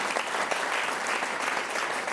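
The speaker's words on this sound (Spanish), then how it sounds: "quiero pedir un aplauso para René Díaz" Audience applause at a Spanish-language song presentation, a dense steady clapping that fills the whole moment and stays loud and close throughout.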